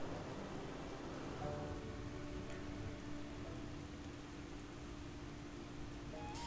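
Steady rain pours down in the Dragon Isles of World of Warcraft, a dense, even hiss of falling drops that holds constant throughout with no talk.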